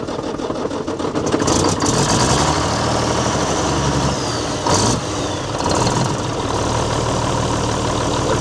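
A vintage Mack R600 truck with a fuel system problem cranks and starts, then settles into a loud, close, rumbling idle with a couple of brief surges in the middle.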